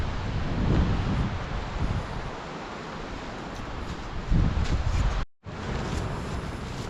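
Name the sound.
wind blowing at a mountain campsite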